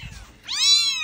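Kittens sitting in a box meow close by, one long rising then falling cry after a short fainter call, with no voices.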